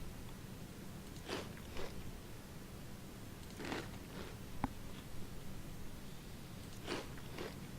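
In the video game Skyvival, several tomatoes are eaten, one after another, as faint, crunchy bites and short chewing bursts, spaced a second or two apart, over a quiet hiss.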